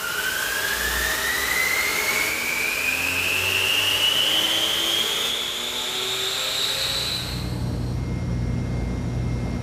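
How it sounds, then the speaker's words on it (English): Air mover ventilating an enclosed space, a loud steady fan whine rising in pitch as it spins up, then settling into a broad rushing roar. "If you have one, an air mover can speed up the process."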